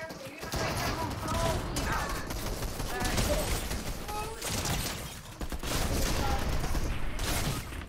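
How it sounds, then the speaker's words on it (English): Gunfire in the video game Fortnite crackles in dense, continuous volleys, loud and layered with mechanical clatter, while players talk over it. "Where? Who's shooting?"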